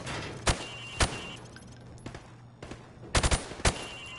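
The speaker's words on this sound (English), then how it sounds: "I want you to shoot the targets through the wood." Gunfire at pop-up targets through plywood on a Call of Duty 4 firing range: sharp, separate shots, two spaced single shots, then a quick cluster of three or four, with quieter clatter between them.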